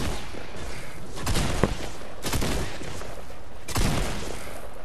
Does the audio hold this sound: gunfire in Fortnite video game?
yes